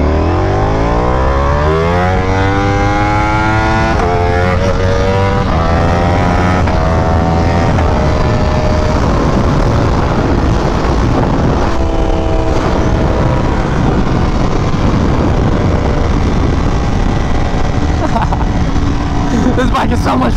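A Ducati Panigale V4R motorcycle runs hard at speed, its engine note rising through rapid upshifts before settling into a loud, sustained roar buffeted by wind, with a rider speaking over it at points.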